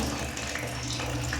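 Water is poured steadily to bathe a child at home, a brief continuous gush and splash heard close up without speech.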